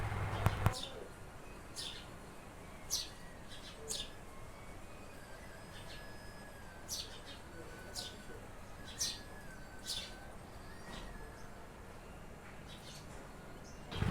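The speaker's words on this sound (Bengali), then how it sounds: "এখানে কিন্তু ঝিকিমিকি আওয়াজগুলো করতেছে পশু পাখি, দেখেন কিস কিস করে আওয়াজ পর্যন্ত করতেছে" Birds chirping outdoors in short thin high tweets scattered every second or two over faint steady ambient noise, distant and quiet, with no one speaking.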